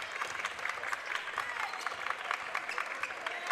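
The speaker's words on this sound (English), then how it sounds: "Student section cheering on the MVP." A high school student section cheers and claps at a boys' basketball game in a gym, a steady, moderately distant wash of applause and crowd noise.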